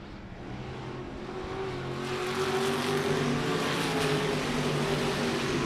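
Stock race cars running side by side out of a turn at I37 Speedway, engines roaring loud and steady, rising in pitch as they accelerate and pass close.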